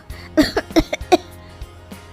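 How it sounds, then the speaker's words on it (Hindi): A quick burst of several harsh coughs from two women, close and overlapping, followed by quieter breathy sounds. "दोनों खांसने लगती है।"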